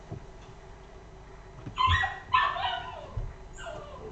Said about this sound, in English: I apologise for the dog-like squeaking in the background.